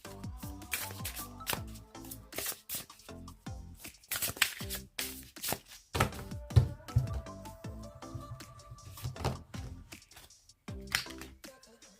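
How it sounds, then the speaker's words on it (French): Oracle cards from a messages-of-the-universe deck being handled and shuffled before a single card is drawn: a close run of crisp riffles, flicks and soft taps, irregular and fairly quiet, with no talking. "Je vais sortir une seule carte."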